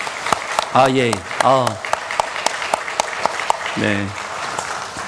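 Congregation in a Korean church service applauding in several bursts of dense clapping, with a few sharp isolated claps between them, while someone speaks briefly over it.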